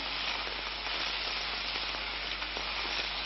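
Stink beans (sato) stir-fried in a pan, giving a steady, close, dense sizzle with faint scraping from stirring, unbroken throughout.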